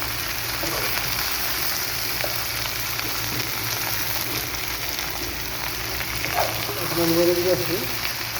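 Potatoes frying in a small wok, a steady broadband sizzle running throughout, with a brief louder crackle near the end and faint voices in the background.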